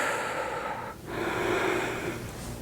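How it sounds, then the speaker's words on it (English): A single deep inhalation, close and breathy, draws in steadily after a brief pause, set against a soft hiss in a quiet room during a Pilates reformer workout. "Take a big breath in."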